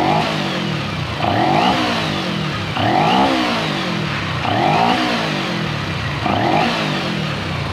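A carbureted twin-or-more-cylinder engine runs steadily in stock setting, its carburetors unevenly balanced, rising in a repeated revving surge about every second and a half before settling back, close and fairly loud with no talk.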